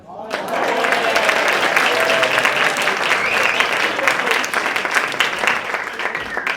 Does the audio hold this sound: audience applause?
yes